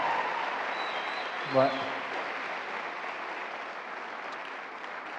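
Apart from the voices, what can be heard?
audience applause at school convocation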